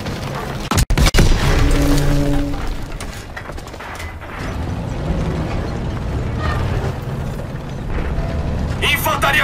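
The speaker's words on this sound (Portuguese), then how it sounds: "Tiros de armas leves." Small arms gunfire in a Call of Duty WWII battle: a couple of sharp loud shots early on, then a dense, busy din of combat noise and mechanical clatter with voices talking over it throughout.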